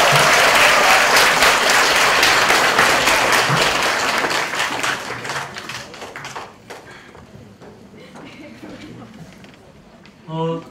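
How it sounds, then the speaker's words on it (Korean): An audience applauds student debaters at the final of an elementary-division youth unification debate, loud clapping that thins into scattered claps and fades out, followed by a brief sharp sound at the very end. "멋진 디베이트를 보여준 우리 학생 여러분들께 큰 박수 다시 한번 부탁드리겠습니다"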